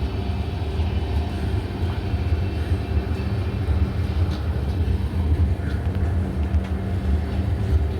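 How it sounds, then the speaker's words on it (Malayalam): At a station, the Kanniyakumari–Pune Express rumbles past with a steady low mechanical drone and faint rattling, continuous and moderately loud throughout. "അപ്പുറത്തൂടെ പോകുന്നത് പൂനെ കന്യാകുമാരി എക്സ്പ്രസിൻ്റെ അതേ സെയിം വണ്ടി തന്നെയാണ്, കന്യാകുമാരി പൂനെ എക്സ്പ്രസ്"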